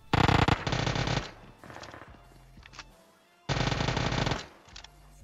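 Two loud bursts of rapid automatic gunfire separated by a quieter stretch with scattered clicks and distant shots, in PUBG Mobile game audio.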